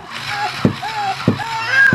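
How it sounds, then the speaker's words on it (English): A Baby Alive Wets N Wiggles toy doll pees water, giving a few short splashes and sloshes at close range, with a child-like voice and other talking over it. "Oh no! He's peeing!"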